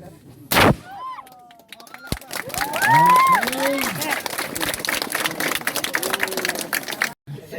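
Gunfire on an army confidence firing range: one loud sharp shot early on, then a weaker second report, with people talking through the rest of the stretch.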